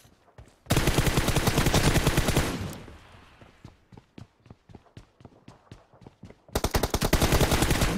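Gunfire erupts in a mobile shooter video game, with two long, loud automatic bursts around a stretch of spaced single shots in between.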